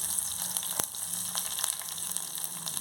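Garlic sizzling in hot oil for tempering, a steady close hiss and crackle running throughout with brief sharper pops.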